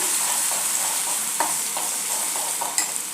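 Ground spice paste frying in oil over a low flame for a besan vadi dish, a continuous soft sizzle with a few light scraping stirs of the spoon against the pan, close and steady.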